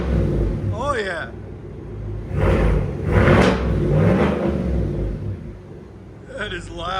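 Inside the cabin of a GMC Yukon AT4, the 5.3 liter engine with straight pipe exhaust blips through several loud, rising revs over a constant deep rumble, with voices heard between and over the revs.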